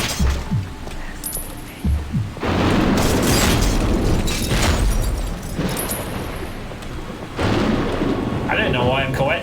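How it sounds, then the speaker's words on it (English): Heavy rumbling thunder rolls in long loud bursts over steady rain in the video game Painkiller: Resurrection, with a brief voice-like sound near the end. "I can't hear you over the constant thunder and lightning."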